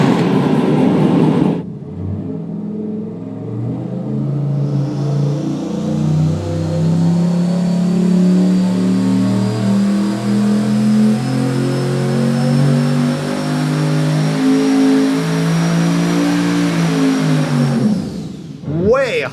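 A high-horsepower V8 on an engine dyno runs with no charge cooling, climbing from a low idle into a long, loud pull with a rising whine before shutting down near the end. Voices are heard briefly before the pull.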